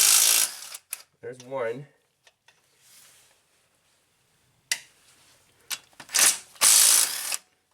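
A cordless impact driver, old but still working, loosens fasteners on a Honda Odyssey in loud, close rattling bursts of hammering, with a voice speaking briefly between them.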